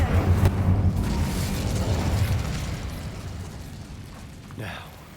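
The Incendio fire spell is cast in Hogwarts Legacy, a loud whooshing burst that roars and then slowly fades, followed by a smaller flare near the end.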